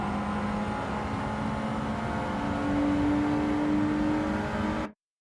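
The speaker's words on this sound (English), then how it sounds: "I think the car sound might be a little bit too loud" Race car engine droning in a racing video game, a loud, steady buzzing hum that swells slightly as it revs higher before cutting off abruptly near the end.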